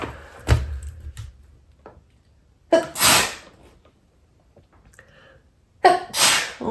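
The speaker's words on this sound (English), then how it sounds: "I had to pause it to go sneeze a bunch." Three sharp sneezes, spaced a few seconds apart, each a sudden burst of breath close to the listener, with quiet in between.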